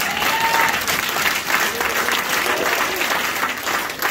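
Church congregation applauding during a French-language sermon, a steady wash of clapping from a crowd that holds evenly for about four seconds with some faint voices mixed in.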